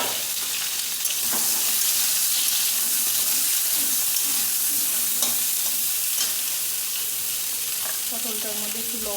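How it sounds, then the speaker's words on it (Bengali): Pointed gourd fries in hot oil in a pan, giving a steady, close sizzle throughout with a few soft stirring scrapes and pops and no voices. "তেলটা গরম হয়ে আসলে আমি এর মধ্যে পটলটাকেও একটু লাল লাল করে ভেজে নেব।"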